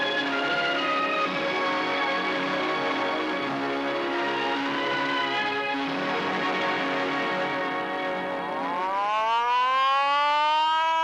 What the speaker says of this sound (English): Each morning, the sirens call his people to work.